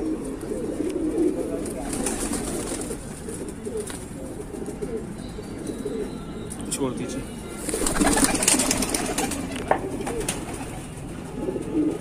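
Pigeons kept by a breeder in a village near Bareilly, Uttar Pradesh, cooing in soft, steady murmurs under someone talking close by, with other voices nearby.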